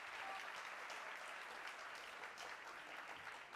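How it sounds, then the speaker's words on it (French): At the Génie en Herbe 2016 quiz final in Côte d'Ivoire, an audience applauds the Lycée Scientifique de Yamoussoukro team. The applause is a continuous, even patter of many hands, heard faintly and at a distance. "On les applaudit s'il vous plaît, le lycée scientifique de Yamoussoukro"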